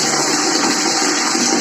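Water pours steadily from a tap into a bucket at home, a loud continuous rushing and splashing stream that holds unchanged throughout, close by and with no voices.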